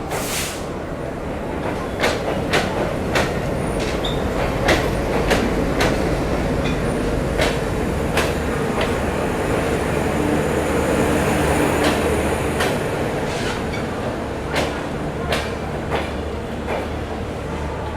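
A superfast express leaving Howrah at night behind an ALCO diesel locomotive, giving a steady loud rumble with repeated sharp wheel clicks over rail joints as the cars roll past, no voices.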